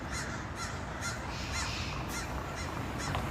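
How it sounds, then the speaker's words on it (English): A crow caws repeatedly outdoors, about seven harsh, evenly spaced calls over a steady background hiss, fairly close and clear, with no talking. "That is a crow. It's a crow with a drone."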